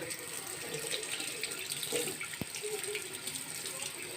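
A bathroom faucet runs steadily into a sink as a child's toothbrush is rinsed, a continuous soft rushing of water with one brief tap partway through, with no voices heard.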